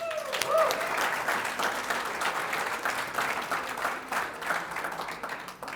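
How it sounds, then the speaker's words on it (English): An evening audience greets the founder and president of Jersey First with sustained applause, a steady dense clapping from a crowd, with a brief voice near the start. "I'd like you all to applaud"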